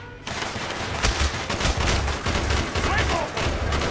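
Rapid automatic gunfire rings out in a hallway battle in the video game Call of Duty Black Ops, with close, loud bursts of shots repeating over a steady din of combat noise.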